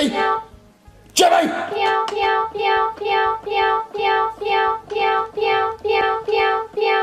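Cat piano toy sounding a long run of evenly spaced, tonal meow notes after a sharp bump, loud and close, with a voice briefly at the start.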